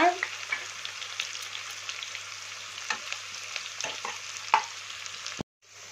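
Fish head curry with ginger paste sizzles steadily in a pan over a low gas flame, with scattered scraping strokes of a spatula; the frying cuts off abruptly near the end.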